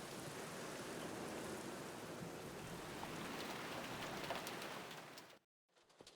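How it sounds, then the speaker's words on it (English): Steady rain pours down on and around a greenhouse roof in a video game, a dense, even hiss that holds loud and close for about five seconds before cutting out abruptly, followed by a brief, fainter return. "the rain ambience changes as we get close to the greenhouse. You can hear it going off the roof."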